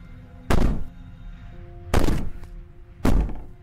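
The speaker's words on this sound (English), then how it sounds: "Maybe the banging and wailing will stop if you just don't pay attention to it" Three heavy bangs on a door in the horror game Slay the Princess, each a loud, booming thud with a short ringing decay, spaced about one and a half seconds apart over a low ambient drone.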